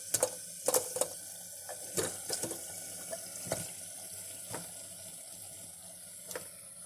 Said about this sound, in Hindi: अब हम इसमें पाए ऐड करेंगे।